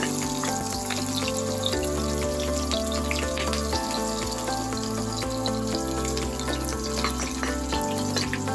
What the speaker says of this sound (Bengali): একটু ভালো করে ভাজতে হবে।